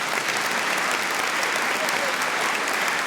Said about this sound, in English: The floor is yours, once they're done clapping.